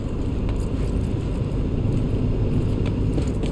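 A car driving in Cyberpunk 2077, a steady loud low engine rumble and road noise holding constant throughout with faint rattling on top.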